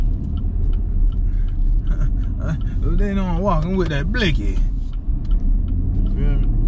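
A low, steady engine and road rumble fills a car's interior while driving, running continuously under someone talking close by.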